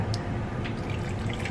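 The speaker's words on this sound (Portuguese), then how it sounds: "Aí agora vamos ver a água. São 325 ml de água morna." Warm water running from a kitchen tap to measure out for focaccia dough, a steady close splashing stream with faint drips and no talking.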